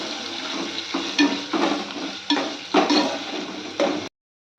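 Onions and masala for an egg curry fry and get stirred in a pan until golden brown, giving a steady sizzle broken by several louder scraping stirs before it cuts off.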